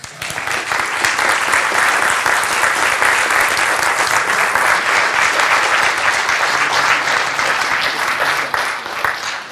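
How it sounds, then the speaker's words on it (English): An audience applauds after a technical conference talk on probe-request sniffing with a Wemos IoT board, giving loud, sustained clapping from many people that holds steady for several seconds before easing slightly at the end. "You may applaud now."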